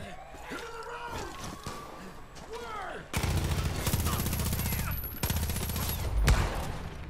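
Gunfire from a Far Cry 5 video game battle rattles in rapid bursts, with sharper shots at the start and then dense sustained automatic fire through the second half; a voice speaks briefly in the opening seconds.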